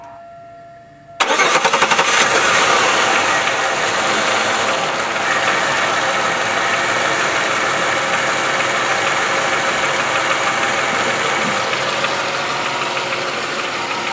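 A 1998 Chevy Malibu engine cranks and catches after a second of quiet, then settles into a steady, smooth idle that runs on evenly, close and fairly loud, with no talking.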